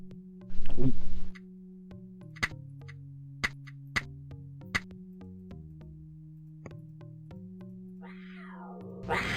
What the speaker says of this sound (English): Come here, kitty.